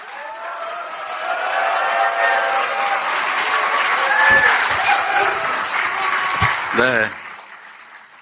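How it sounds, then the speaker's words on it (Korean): A large audience at a Democratic Party meeting of regional committee chairs and lawmakers breaks into sustained applause that swells and then fades. Near the end, a brief spoken word and a few knocks come through as the clapping dies down. "힘내시라고 큰 박수 보내주시기 바랍니다"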